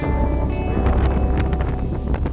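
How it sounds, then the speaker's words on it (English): Strong mountain wind gusting at about 70 miles an hour, roaring and buffeting the microphone in a steady, loud rush with no pauses. "Check the wind is 70 miles an hour."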